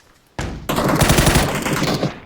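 Automatic gunfire in PUBG, a dense sustained burst of rapid shots that starts after a single sharp report and holds loud and close for about two seconds.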